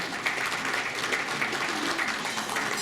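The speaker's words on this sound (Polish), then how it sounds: "Bardzo dziękuję za oklaski" Audience applause filling a hall at an awards gala, a steady dense patter of many clapping hands held at even loudness throughout, with no voices over it.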